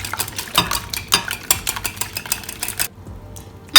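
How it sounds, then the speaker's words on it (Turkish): Molasses whisked into crepe batter in a bowl, with a quick, steady run of close metallic clinks and scrapes of the whisk against the bowl that stops abruptly near the end. "pekmezimi ilave ediyorum ve çırpıyorum."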